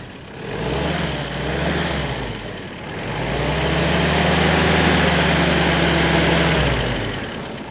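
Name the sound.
WW2 Willys Jeep engine running with Solex carburetor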